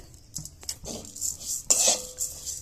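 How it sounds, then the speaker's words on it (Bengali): A metal spoon scraping and clinking against a metal kadai while puffed rice is stirred, heard as a few sharp close-up metallic clatters and rustles over a quiet background. "কড়াইতে দিয়ে কিন্তু আমি কিছুক্ষণ নাড়াচাড়া করে নেব"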